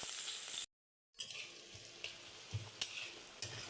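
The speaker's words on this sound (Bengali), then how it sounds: "পেঁয়াজটা ভাজা হয়ে গেছে" Chopped onion and black cumin seeds fry in the oil left from frying pabda fish, a soft steady sizzle that cuts out briefly, then resumes with light scraping stirs and occasional clicks of the spoon.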